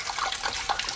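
A water tap runs in a 1969 radio play, a steady hissing stream of splashing water that fills the whole short moment with no voices.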